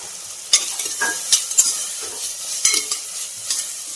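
Ginger, garlic, coriander and coconut masala with turmeric sautéing in a pan, a soft sizzle broken by several sharp stirring scrapes, no talking.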